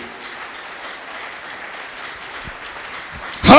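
A church congregation breaks into sudden loud applause after a quiet, hushed room, the clapping surging in abruptly at the very end.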